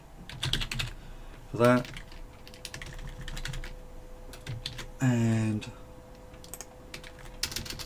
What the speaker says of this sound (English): I'm too lazy to type flash again, so I hit just as many keys to copy and paste it